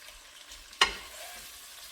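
Chopped onion hits a hot pan of cooking for a sausage, cabbage, potato and corn soup, giving one quick splash of sizzle that settles into a low, steady frying hiss.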